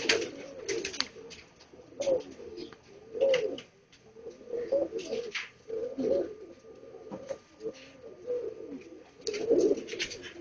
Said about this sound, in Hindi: ये मेरा सलेटा कबूतर है।